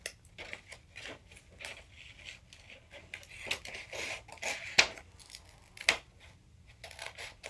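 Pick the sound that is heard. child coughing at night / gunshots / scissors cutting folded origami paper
scissors cutting folded origami paper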